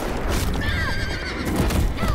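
A horse neighs in The Walking Dead video game at a burning ranch, a loud whinny with a rising and falling pitch over a rumbling background.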